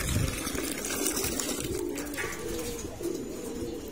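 Racing pigeons coo softly and repeatedly as they gather around a water bowl to bathe outdoors in the sun, low throaty calls overlapping at a moderate distance with no talk.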